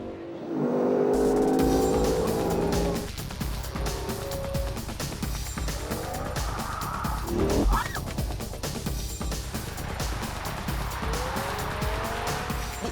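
A BMW M5 on a fast lap around a soaked race track with traction control on, engine roaring through gear changes with tire squeal and spray, loud and sustained throughout with no talk.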